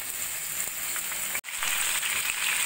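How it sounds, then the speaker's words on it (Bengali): Pumpkin, papaya, drumstick and tomato frying in a pan make a steady, close hissing sizzle that cuts out for a moment partway through, then resumes, with no voices. "সব সবজিগুলো দিয়ে কিছুক্ষণ ভাজা ভাজা করে নেব।"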